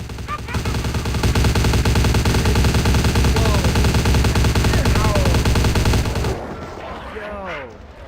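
Dense, loud automatic gunfire in Vampire: The Masquerade Bloodlines, a rapid unbroken barrage of shots that swells and holds for about six seconds, then cuts off, leaving quieter scattered game sounds.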